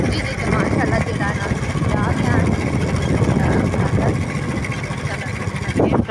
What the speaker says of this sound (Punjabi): ਬੱਚੇ ਵੀ ਹੈ ਮੋਟਰਸਾਈਕਲ 'ਤੇ ਅਸੀਂ ਵੀ ਹਾਂ